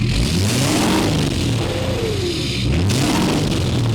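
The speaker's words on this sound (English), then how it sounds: "So now I will do a demonstration of revving it up." A straight-piped, deleted 2017 Ford F-250 pickup making about 500 horsepower revs loudly and close by, its deep exhaust roar swelling and dropping in a few broad sweeps over a constant rumble.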